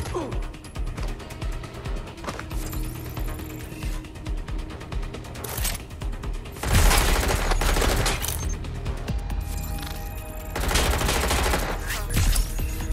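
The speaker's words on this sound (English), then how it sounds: "Being shot at here!" Gunfire in the video game Watch Dogs: Legion, with rapid automatic bursts and mechanical clatter, getting louder and denser in the second half, mixed with game sound effects and occasional voices.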